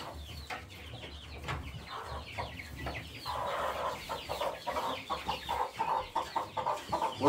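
A hen clucks close by in quick, uneven bursts, growing more insistent and rhythmic toward the end, over a low background hum.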